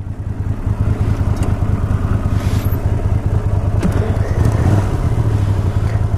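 A small-engined touring motorcycle runs close by, a loud steady chugging engine note with a rapid pulsing rhythm and slight rise near the end, no talk.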